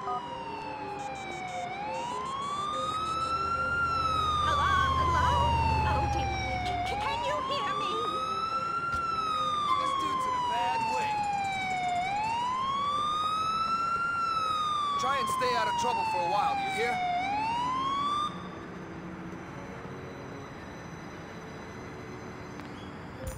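An ambulance siren in the video game GTA 4, wailing up and down in long repeated sweeps, loud and near, with a low rumble of game noise beneath and a quieter tail at the end.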